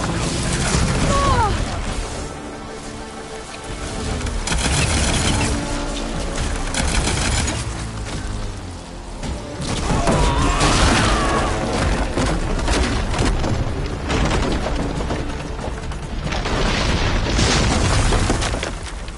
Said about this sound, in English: That plasma's going to explode!